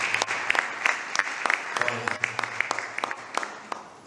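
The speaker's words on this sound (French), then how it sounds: "On applaudit le frère." An assembly at a Lasallian student parliament plenary session claps to welcome a visiting Brother: loud, close, irregular handclaps from many people over a low hum, with voices murmuring beneath.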